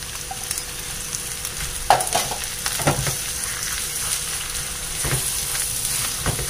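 Mashed boiled potato is stirred into a sizzling green chilli masala in a pan, with a steady hiss of oil and a few sharp scraping stir strokes near the mic, no voices.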